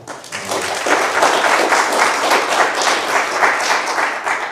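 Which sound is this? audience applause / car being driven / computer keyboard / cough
audience applause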